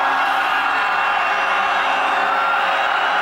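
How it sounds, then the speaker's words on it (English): Stadium crowd at a 1996 CFL football game between the Toronto Argonauts and Calgary Stampeders, a steady loud roar of noise and cheering that holds evenly throughout without pause. "Crowd making noise"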